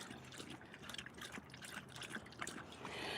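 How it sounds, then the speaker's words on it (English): A water jug is being filled, with a faint, steady trickle and splash of running water close by that swells slightly toward the end, with no talking. "I need to fill up my water jug thing."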